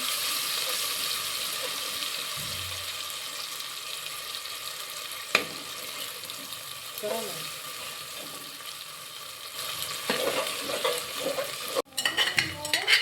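Garlic-ginger masala paste fries in a pan for mutton rassa, a steady sizzling hiss with one sharp knock and occasional stirring scrapes, growing busier and clattering near the end.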